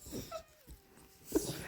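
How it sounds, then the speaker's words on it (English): A dog whines indoors during a racing sim session, giving a short, thin whimper that slides downward in pitch, with a few soft noises around it and no speech. "Some dogs whining and it's annoying me."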